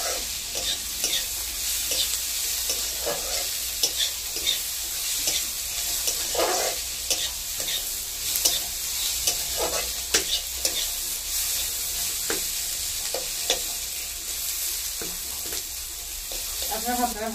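Bottle gourd peels fry in a pan, with a steady sizzle throughout and repeated scraping clicks as a spatula stirs them at close range.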